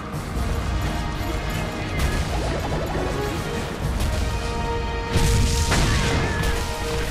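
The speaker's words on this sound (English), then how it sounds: "Barrel bomb." A barrel bomb goes off in Monster Hunter Frontier Z, with two loud crashing blasts a few seconds apart over steady game noise.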